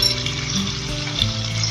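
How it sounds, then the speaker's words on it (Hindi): Chicken pieces frying in the onion oil make a continuous close sizzle, with a soft low clatter of stirring in the pan. "चिकन को फ्राई करेंगे"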